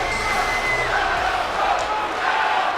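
Arena crowd in a WWE 2K20 wrestling video game, a dense roar of fans chanting and cheering, loud and continuous for a few seconds.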